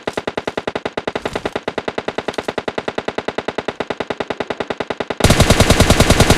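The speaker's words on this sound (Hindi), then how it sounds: "सामने से एक और बंदे की गन साउंड आती है" Rapid automatic gunfire from the PUBG Mobile Lite video game rattles in a long, evenly spaced burst, then grows louder and denser in the final second, with no speech over it.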